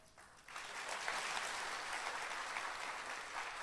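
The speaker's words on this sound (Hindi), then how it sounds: "पहले ताली बजा लो आप।" An audience at a Srimad Bhagavatam lecture by a swami breaks into steady, full applause that starts quietly, swells quickly and keeps going evenly throughout.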